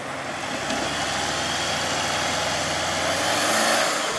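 Subaru Forester engine straining while stuck in deep snow on a winter camping trip, a continuous mid-pitched engine drone that rises a little toward the end, no talk.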